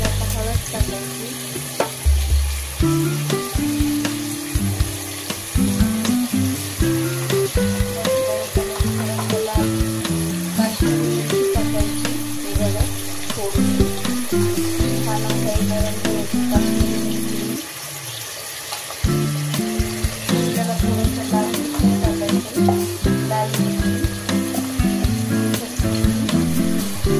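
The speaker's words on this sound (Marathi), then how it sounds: "चांगलं आपल्याला याच्यात फ्राय करून घ्यायचं मटनला।" Mutton fries with turmeric in a pan, giving a loud, continuous close sizzle with stirring scrapes throughout and a brief dip near the end.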